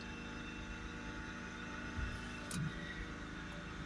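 A low, steady engine hum from an idling BMW X5 E70 3.0 diesel drones on quietly with no voices, the revs creeping up slightly, the pitch holding nearly constant throughout.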